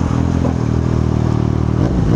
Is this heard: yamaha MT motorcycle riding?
yes